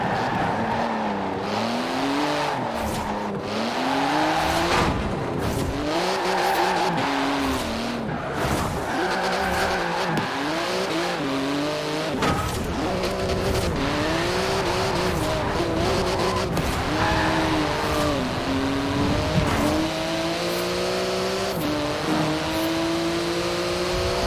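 Porsche GT2 RS in Forza Horizon 4, engine revving hard through repeated rising gear pulls and shifts, with tyres squealing and skidding on corners, loud and continuous throughout.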